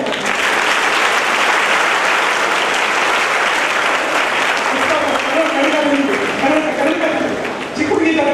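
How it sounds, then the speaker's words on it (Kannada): An audience at a community gathering in Gulbarga claps loudly in sustained, dense applause that carries steadily throughout, dipping briefly near the end. "ಜೋರಾಗಿ ಚಪ್ಪಾಳೆ"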